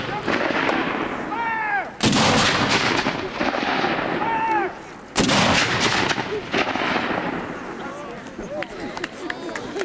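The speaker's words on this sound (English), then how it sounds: "All the guns went boom and no one lost any fingers." Historic cannons fire one after another at a Park Service demonstration, with two loud booms sharply cutting through the scene, each trailing off in a long rumble. Someone shouts commands, and birds chirp in the background.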